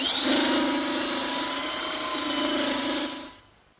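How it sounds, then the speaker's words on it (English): A small handheld belt sander runs on the edges of a wooden coffee table with a loud, steady motor whine and grinding hiss, then winds down and stops near the end. "I like to use a slightly smaller belt sander to do these edges"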